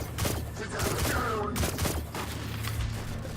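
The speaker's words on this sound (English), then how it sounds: "Oops, shooting the wrong guy." Rapid gunfire in the video game Destiny 2, played on a standard PlayStation 4 during a Warlock campaign battle in a falling city, with dense repeated shots and explosive thuds under brief talk and game effects.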